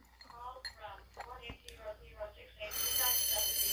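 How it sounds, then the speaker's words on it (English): A telephone rings with a bright, rapid electronic trill that starts near the end. Before it, a voice speaks quietly, and faint clinks are scattered through the quiet room. "let's let that ring, y'all"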